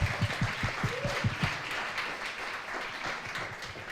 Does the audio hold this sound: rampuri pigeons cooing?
no